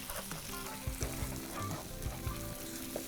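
Eggs with garlic sizzle and crackle steadily in a hot pan while being stirred quickly into a scramble, a close, continuous fry with soft scraping movements and no talking.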